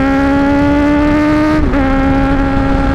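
Kawasaki Z1000R motorcycle engine droning steadily at close range, with a brief dip and recovery in pitch as a clutchless gear shift goes through smoothly.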